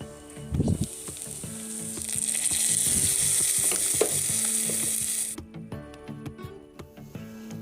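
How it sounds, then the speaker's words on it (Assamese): Small fish frying in a covered pan with raw green chillies and bamboo shoot, a loud continuous sizzle with clinks and scraping from stirring, the sizzle cutting off near the end, leaving scattered clatter. "এতিয়া কেঁচা জলকীয়াকেইটা আৰু বাঁহগাজখিনি দি অলপ লৰাই পুনৰ ঢাকোনখন লগাই ভাজ খাবলৈ দিম।"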